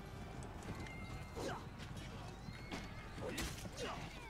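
A summoned horse in the game Blood of Steel, hooves clip-clopping and a whinny amid a busy battle din, with a voice talking over it.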